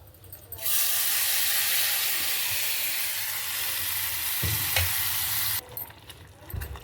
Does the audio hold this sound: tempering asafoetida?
yes